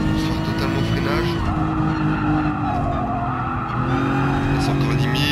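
Race car in Gran Turismo Sport braking hard with loud continuous tire squeal over a steady engine roar throughout, with a voice talking over it.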